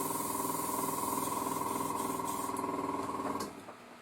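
An airbrush sprays thick white paint on a 1:35 scale Takom Type-69-II tank model, a steady close hiss with a faint motor buzz that cuts off near the end.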